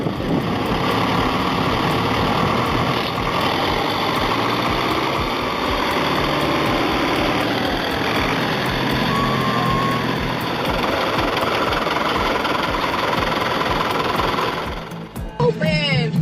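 A powerful tractor, bogged down in arable land by heavy plowing equipment, roars loudly and steadily as it strains to pull out, the dense engine noise running unbroken until it cuts off near the end.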